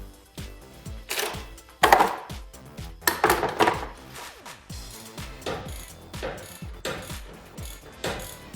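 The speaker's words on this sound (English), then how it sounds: "And then use your torque wrench to tighten down the bolts." A torque wrench tightens body lift bolts on a 2009-2018 RAM 1500 pickup, its ratchet clicking in loud, close bursts of rapid pawl ticks separated by short pauses, with metallic clanks mixed in.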